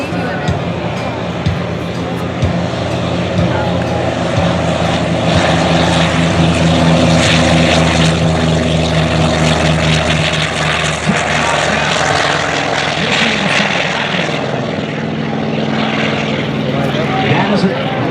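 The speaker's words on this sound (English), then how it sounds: "Gene Soucy's going to come down the line." Gene Soucy's propeller airshow plane passing down the line at the 2014 NAS Jacksonville airshow: a loud, sustained engine drone that swells and holds, with a public-address voice talking beneath it.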